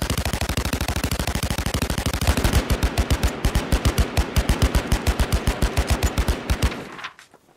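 Rapid automatic gunfire from a shooter video game, Last Man Standing, a long sustained burst of evenly spaced loud shots that briefly shifts in tone midway and then cuts off, no talking.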